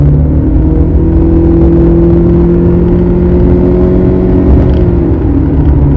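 A 2010 Lexus HS250h hybrid at full throttle, gas engine and electric motor combined, gives a steady, loud, strained engine drone that climbs gradually in pitch and holds for the whole stretch, with no talk over it.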